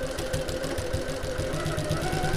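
Sewing machine back stitching a backpack seam with a regular construction stitch length, a loud, close, continuous mechanical chatter with a fast even rhythm throughout.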